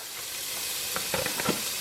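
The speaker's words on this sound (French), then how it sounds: "On va rajouter donc les petits lardons." Bacon lardons fry in a pan with a steady loud sizzle, and a few stirring scrapes and clatters rise near the end. Nobody speaks.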